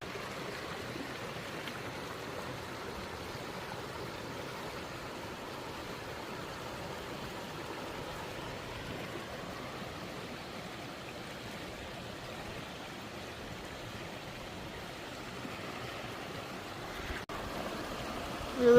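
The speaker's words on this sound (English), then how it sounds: "There's a waterfall" A rushing stream and waterfall along a hiking trail give a steady, even wash of water noise that holds constant throughout, with no voices over it.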